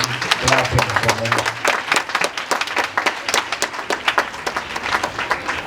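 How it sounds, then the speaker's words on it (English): An audience claps at a goodwill program in Ghana, a steady patter of many hands filling the room, with a voice and low tones partly mixed in at the start. "Please, with the hand clap offering, give Mr. Abuka clapping for me"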